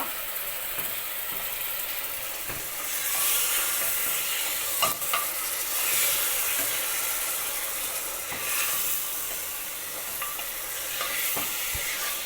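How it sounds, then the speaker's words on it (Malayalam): Beef curry fries in a pan while it is stirred, with a continuous loud sizzle and hiss and repeated scraping and clicking strokes of the spoon against the metal. "ഇതിനുശേഷം നമ്മൾ നന്നായിട്ടൊന്ന് ഇളക്കി കൊടുക്കുക"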